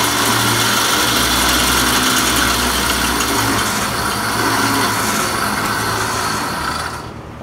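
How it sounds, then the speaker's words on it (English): A 66/80cc motorized bicycle engine runs steadily on a dyno, a loud, buzzing two-stroke drone with a constant low hum that holds for several seconds before easing off at the end. "that would be basically what's called an engine pull"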